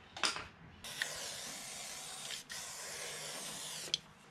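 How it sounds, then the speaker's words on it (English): Battery impact gun spinning bolts off the front knuckle backing plate of a 1965 Toyota FJ45, close, a steady whirring hiss in sustained runs broken by short gaps and sharp clicks. "Now if you can't turn the torque down on your little battery gun, I'd suggest just using hand tools."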